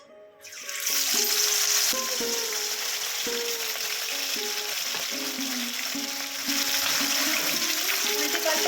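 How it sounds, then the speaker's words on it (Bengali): Fish pieces frying in hot oil make a loud, continuous sizzle that swells sharply at the start and keeps going, with small clinks and shifts as the pieces settle. "এভাবে সমস্ত মাছগুলো আমি ভেজে নেব।"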